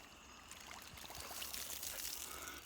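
Water pours onto a potted plant in a steady, faint, hissing trickle that runs through the whole stretch without pause, with no voices.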